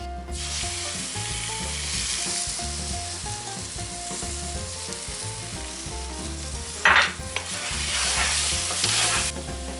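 Beaten eggs stirred into Murtağa in a hot pan, a steady close sizzle of frying with rhythmic scraping stirs and a brief louder clatter.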